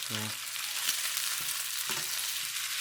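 Fatty pork shoulder or butt pieces browning in a pan for curry, a steady loud sizzle with a couple of short stirring scrapes and clicks.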